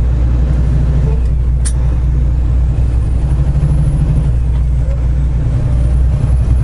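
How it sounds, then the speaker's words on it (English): A loaded semi truck's Jake engine brake holds a deep, continuous low rumble heard from inside the cab, steady and fairly loud with only slight swells throughout. "I got my Jake brake on"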